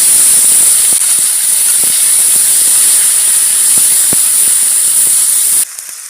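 Onion paste hitting hot oil in a pan for a Bengali hilsa and green banana curry makes a loud, continuous hissing sizzle with a few soft pops, easing slightly at the very end.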